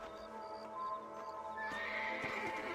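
A horse whinnies in the Western video game Red Dead Redemption, a clear mid-level neigh with faint hoof clops, set against steady outdoor ambience and a rising background wash.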